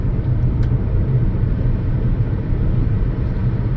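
BYD Dolphin Mini electric car pulling out to pass a truck, a steady broad road and wind rumble filling the cabin, loud and continuous with no speech.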